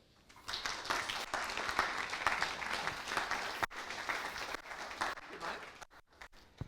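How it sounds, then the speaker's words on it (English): Audience applause greets a speaker at an evening talk session, rising into steady crowd clapping that holds for several seconds, then thins out toward the end, moderately distant. "I'd like to give the floor and an applause for Andrea."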